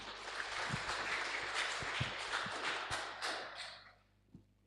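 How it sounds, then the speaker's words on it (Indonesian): Applause from a church congregation at a Christmas youth service in Rantepao, a broad wash of clapping that rings for several seconds and then fades, with a few louder thumps near the end. "Tepuk tangan dong untuk pengurus PPGT-nya"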